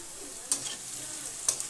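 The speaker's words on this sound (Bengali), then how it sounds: "দিয়ে ভালোভাবে নেড়ে চেড়ে ভেজে নেব।" Potatoes sizzle in hot oil in a pan, a steady soft frying hiss broken by two brief scrapes of a spatula stirring them, with no voices.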